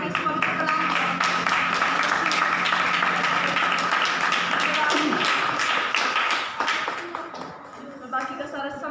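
A church congregation at a Hindi Christian sermon claps together in dense sustained applause, dense and near, fading in the last seconds.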